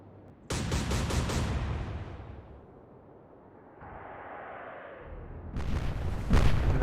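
Royal Navy warship guns firing in the naval game Atlantic Fleet, heavy booming salvos heard as two loud bursts with a rumbling lull between them, close and alone with no talk.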